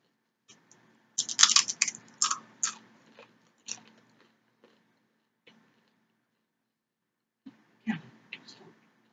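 Crisp crunching bites of nachos, a burst of several loud chews followed by scattered quieter crunches after a pause, close to the ear.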